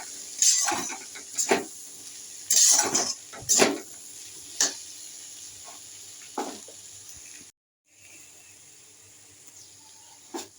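Mixed vegetables with turmeric, cooked for a paneer dish, are stirred in a pan. A metal utensil scrapes and clinks against the pan in short bursts, with quiet low hiss between the strokes and a brief silent gap.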